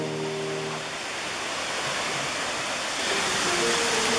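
The big waterfall at Chittenango Falls in a New York state park roars as a steady, dense rush of falling water, loud and continuous with no talk.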